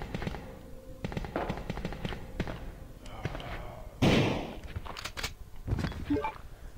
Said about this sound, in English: He threw up just as I was shooting him in the head.